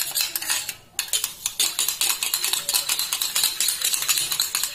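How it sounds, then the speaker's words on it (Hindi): An oil-based face serum is whisked in a small bowl with a spoon, producing rapid, bright metallic clinks and scrapes in a steady rhythm, close and clear, with a brief pause near the start. "अब आप इन सबको अच्छे से मिक्स कर लीजिए।"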